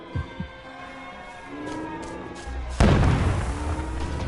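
A grenade blast in the video game We Happy Few: after two short thumps and a low hum, a loud boom hits with a sudden broadband burst and rumbles on to the end.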